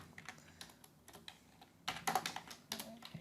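Typing on a computer keyboard while entering database document properties: quiet, irregular clusters of key clicks, close up, with a brisker flurry of keystrokes toward the end and no talk.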